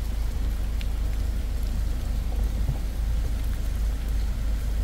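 Steady summer rain falls on a street in Chinatown, a dense, even hiss with a low background rumble and a few faint distant taps, continuous and unbroken with no voices.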